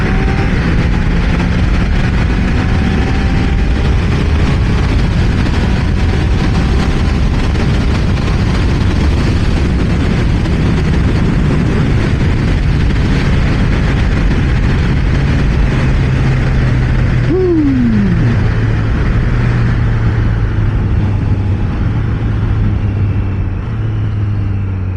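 A Triumph Trident 660 three-cylinder 660cc motorcycle on the road, a loud steady engine drone with wind roar throughout, rising in pitch as it accelerates through gears near the end.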